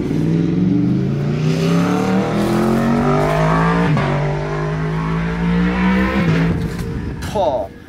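A supercar with a manual shifter revs hard nearby, its loud engine tone climbing and falling through several rising sweeps before a sharp blip at the end, with voices heard over it.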